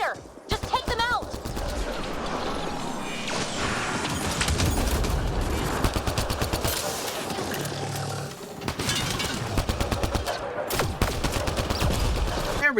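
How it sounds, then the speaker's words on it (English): Gunfire in Mass Effect Andromeda rattles in repeated bursts and fusillades, loud and dense, broken by short pauses, with roaring creature noises and game combat effects mixed in. "Why are you shooting at the wall?"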